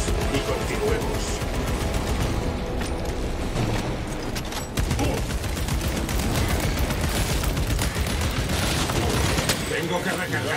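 Dense, sustained gunfire and explosions from Warhammer 40,000: Space Marine 2 during a combat mission, loud and continuous bursts with booms throughout, mixed with game voices.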